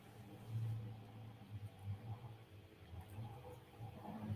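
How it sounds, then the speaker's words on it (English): A hot rod engine revs in the background, a low, uneven rumble that rises and falls at a distance with no one talking. "Now we got a hot rod being revved up in the background."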